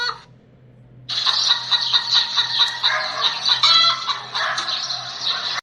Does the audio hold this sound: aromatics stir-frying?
no